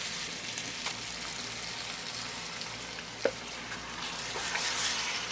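Chicken pulao masala frying in a pot as yogurt goes in, a steady sizzle with a soft stirring clatter and one sharp knock partway through, close and without talk.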